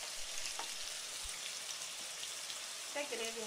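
Chopped onions and green chillies frying with mutton liver in hot oil, a steady bright sizzle throughout with a few faint stirring clinks.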